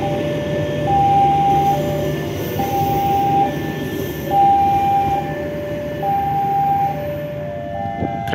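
The Argo Laut extra passenger train, running from Solo Balapan toward Jakarta Gambir, rolls loudly past on its rails with a heavy steady rumble and a repeating two-tone chime sounding at regular intervals.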